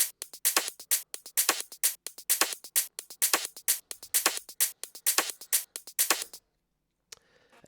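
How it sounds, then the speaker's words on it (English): Second shaker loop from an electronic production, a steady stream of bright, sizzling shaker strokes in a driving groove, stopping abruptly near the end with a short faint noisy tail. "two shaker loops."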